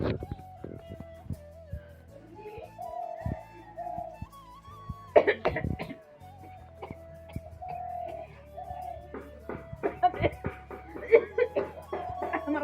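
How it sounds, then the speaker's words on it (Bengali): A person coughs in a few sharp bursts, with a cluster near the middle and more toward the end. Talking and light throat sounds fill the gaps between the coughs. "একটা কাশি এসেছিল কথা বলতে পারছিলাম না"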